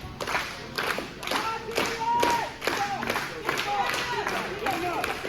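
Crowd at a live pro wrestling event clapping in a rhythmic pattern, with thumps and scattered cheers throughout, while a commentator talks over the noise.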